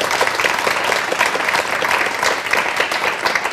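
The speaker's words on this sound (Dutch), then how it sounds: "Mag ik een heel warm applaus voor Janny van der Heijden?" Warm studio audience applause for a guest on a library talk show, dense and even clapping filling the room at steady volume with no talk over it.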